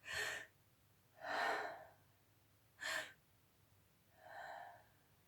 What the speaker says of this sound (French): c'est une méthode de respiration très simple, où on va s'allonger par terre, et on fait 30 respirations ainsi